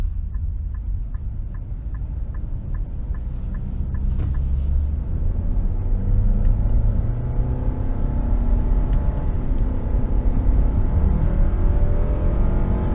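A 2021 Nissan Rogue SL cruises on a highway in sport mode at about 62 mph, giving a steady low road and engine rumble inside the cabin with a few faint clicks early on, no talk.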